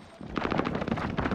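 Rapid automatic gunfire in Call of Duty: Modern Warfare, a close burst of quick, evenly spaced shots that starts after a short quiet moment and continues loudly to the end.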